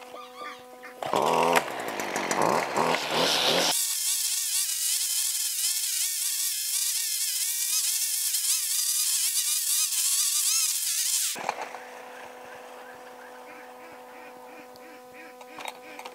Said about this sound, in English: I'm gonna go ahead and get the weed eater fired up and go ahead and weed eat this down